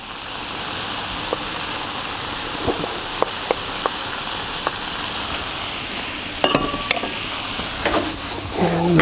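Rice for egg fried rice being stir-fried in a hot pan, a loud constant sizzle with sharp clicks and taps of a utensil against the pan, busier clattering near the end, close up and without talk.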